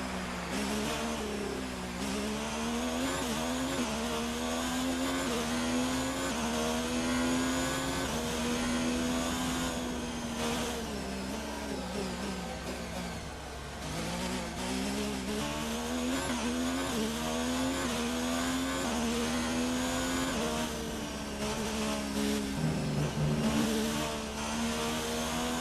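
A Formula 1 car engine at the Chinese Grand Prix in F1 career mode: a loud, steady high-pitched whine that rises and falls through gear shifts over about 25 seconds, with no talking.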